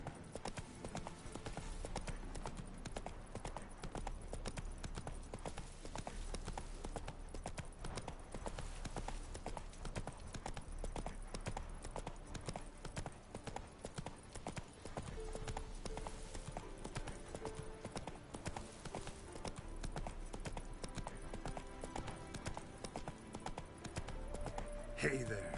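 Roach, the horse in Witcher 3, trots with steady hoof clip-clops throughout, layered under game music and ambience and fairly quiet, with a voice speaking at moments.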